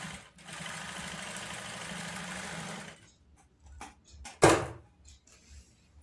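A sewing machine runs a short continuous burst stitching a dart on a bridal blouse, then stops, followed by quiet handling clicks and a sharp knock.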